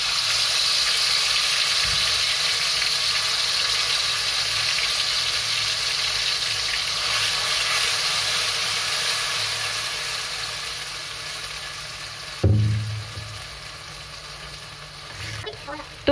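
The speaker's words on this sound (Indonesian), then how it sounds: "Tumis bumbu yang sudah dihaluskan." Ground spice paste sizzles and fries steadily in hot oil, a dense continuous crackle with occasional stirring clatter, a louder scrape near the end.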